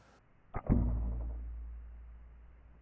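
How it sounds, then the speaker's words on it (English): A Strother Vital compound bow releases a 408-grain arrow through a chronograph, giving a sharp double snap and then a low, fading thrum that dies away over two seconds, close and otherwise quiet. "we're shooting that Vital with that 408 grain arrow through the chronograph"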